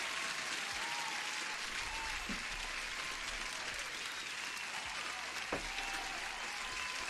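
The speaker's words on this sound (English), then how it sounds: "Huge applause." Sustained applause from a crowd, dense steady clapping that continues evenly throughout without pause.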